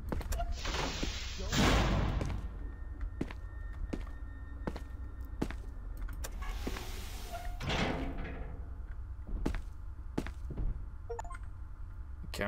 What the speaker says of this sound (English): I'm just gonna shut the door because I don't want anything coming behind me.